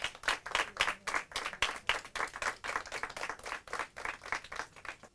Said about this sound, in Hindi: टीम तिरंगा के लिए जोरदार तालियां।